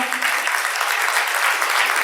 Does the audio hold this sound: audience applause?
yes